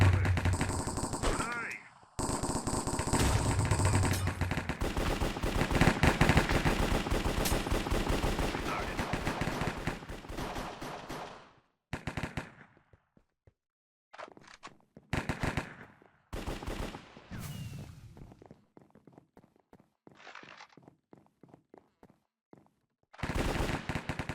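Rapid automatic gunfire fills a first-person shooter match, long dense bursts giving way to shorter staccato volleys with brief silent gaps, loud and close throughout.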